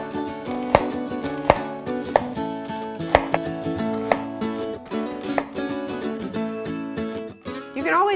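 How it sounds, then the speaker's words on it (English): A knife slices the top and bottom off a red onion, giving a handful of sharp, separate taps on a cutting board over steady background music. "So I'm just gonna start by taking off the top and the bottom of the onion"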